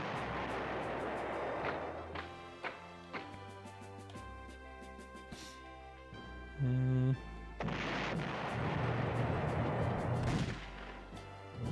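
Artillery in the PlayStation 1 war strategy game Panzer General fires repeated booming shots with explosions over the game's music, in irregular bursts that are loud throughout and swell near the end.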